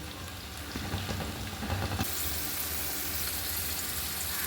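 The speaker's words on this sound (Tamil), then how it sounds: "வெங்காயம் நல்லா வதங்கட்டும்" Onions sautéing in a pan for vegetable biryani, a steady broadband sizzle that stays loud and even throughout, with some rattling movement in the first two seconds.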